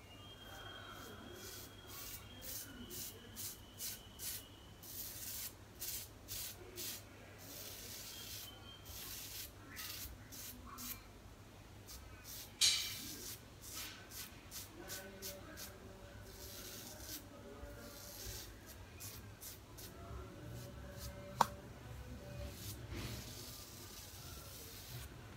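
A Razorock Wunderbar safety razor shaves hair from a head with soap lather, giving a steady run of short, close scraping strokes in a quick rhythm that continues alone for the whole stretch.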